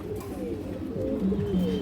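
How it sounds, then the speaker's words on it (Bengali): A silver female pigeon coos in low, soft, rolling notes, repeated several times close by without any talk. "একটা সিলভার বাঁকা মাদি কবুতর"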